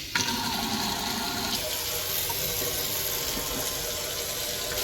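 An American Standard Maven kitchen faucet runs steadily, a broad continuous rush of water that begins abruptly and holds at an even level, switching between sprayer and stream modes with only slight changes in tone.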